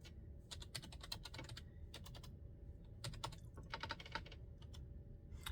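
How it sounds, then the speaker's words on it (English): Quick bursts of keystrokes on a computer keyboard, clicking in short rapid runs with brief pauses between, close and fairly quiet over a low background hum. "Let's type in empathy."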